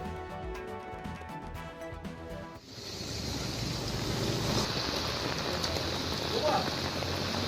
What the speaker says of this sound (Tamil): கன்னியாகுமரியில் பல்வேறு இடங்களில் பலத்த காற்றுடன் கனமழை.